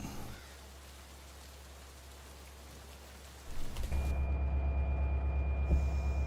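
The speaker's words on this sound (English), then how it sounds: "It is still raining." Rain in the Run 8 train simulator on the Mojave Sub, a steady soft hiss of rainfall that gives way to a louder, denser patter with a low rumbling drone underneath.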